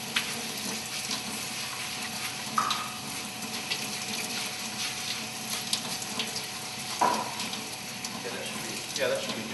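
Water runs steadily from a tap while brown rice is rinsed and stirred in a container, with occasional clinks and splashes; the sound is fairly faint and people talk over it.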